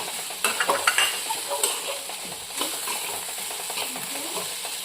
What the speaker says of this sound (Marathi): खोबरं पण थोडा वेळ भाजून घ्यायचं